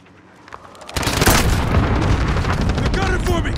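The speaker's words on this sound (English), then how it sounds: "Enemy cruise missile." A cruise missile strike in Call of Duty: Warzone hits with a sudden loud boom, then a sustained roaring rumble that continues to the end, while voices talk over it.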